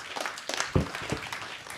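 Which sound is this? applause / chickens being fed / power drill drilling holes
applause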